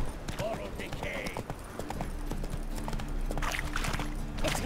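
Roach, a horse in The Witcher 3, gallops with quick rhythmic hoofbeats, moderately near, alongside rustling ambience and a brief snort.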